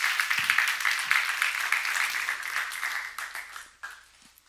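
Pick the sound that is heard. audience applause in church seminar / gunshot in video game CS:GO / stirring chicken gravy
audience applause in church seminar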